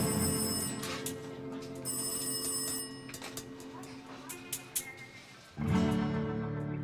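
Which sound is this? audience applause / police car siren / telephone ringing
telephone ringing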